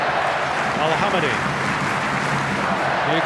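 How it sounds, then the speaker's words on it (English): Newcastle stadium crowd at an Australia versus UAE Asian Cup semifinal, applauding and cheering their team in a broad continuous wash of clapping and voices, with a commentator talking over it. "Newcastle crowd rising as one to salute their team"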